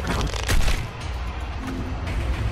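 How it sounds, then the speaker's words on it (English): Gunfire in the video game Doom Eternal, a burst of loud heavy booming shots close up within a dense, noisy game soundscape, with no clear voices. "And again, a shot."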